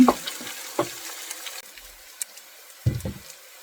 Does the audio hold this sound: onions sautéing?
yes